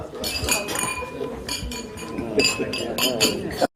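Glasses chime and clink several times in quick bursts during a celebratory toast at a Korean Rotary banquet, ringing over a crowd of voices calling out together.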